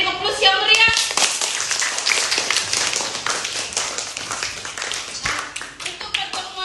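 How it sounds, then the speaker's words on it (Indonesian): An audience in a classroom breaks into lively applause at the close of a lesson, a dense run of many hands clapping for several seconds, with some voices mixed in. "beri aplaus yang meriah"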